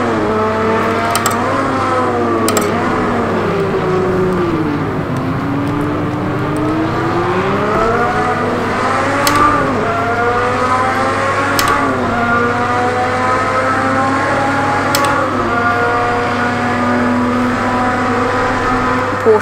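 Porsche 917 race car in Project Cars 2, its engine droning loud and close for the whole stretch, pitch sweeping up and down through gear changes, with brief sharp clicks breaking in now and then.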